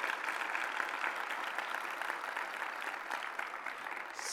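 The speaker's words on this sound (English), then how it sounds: "can we give her a hand of applause" An audience at the closing plenary of an ELT conference applauds, a dense, even patter of many hands clapping that holds steady throughout, with no speech over it.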